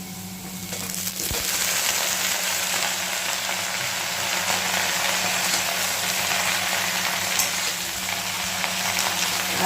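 Water lily stems fry in a pan for a Bengali vegetarian dish, giving a loud, close, steady hiss and sizzle that swells after a sharp start and holds evenly throughout.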